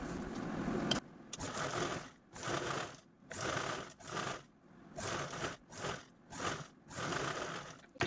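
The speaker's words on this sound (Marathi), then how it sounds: "तर चला लगेचच झिप स्टिच करू" A sewing machine stitches a zip onto a blouse piece in quiet, close bursts, running for about a second at a time with brief pauses in between and no voices.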